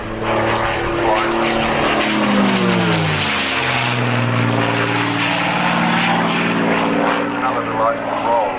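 A P-51 Mustang propeller plane rolls during an airshow at Matamata Airfield. Its engine roars loud and steady throughout, the pitch sweeping down as it passes, while a commentator talks over it.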